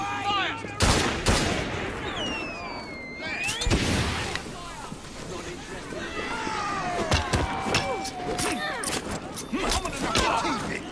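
Pistols fire in a Victorian London street scene in Assassin's Creed Syndicate, several sharp shots spaced across the clip amid shouting voices and background commotion.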